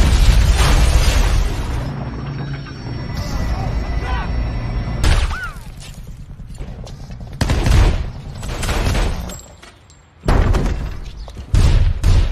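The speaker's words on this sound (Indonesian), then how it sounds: "melepaskan tembakan bazooka ke mobil van putih milik CIA hingga meledakkan mobil" A bazooka round blasts a white CIA van in a film scene, heard as a series of loud booming explosions and crashes separated by short quieter gaps, with film dialogue and music in between.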